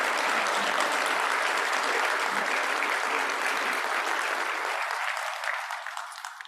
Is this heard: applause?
yes